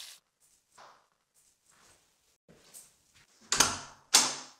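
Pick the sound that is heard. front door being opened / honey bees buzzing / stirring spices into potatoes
front door being opened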